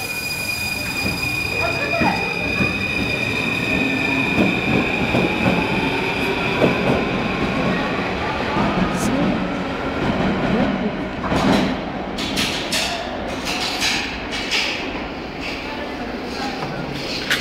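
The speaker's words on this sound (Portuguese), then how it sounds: "Ela está anunciando o metrô que vai chegar" A metro subway train pulls into a station, with steady loud rumble and rail noise throughout, brief squeals and a rising whine, and clicking wheel sounds toward the end.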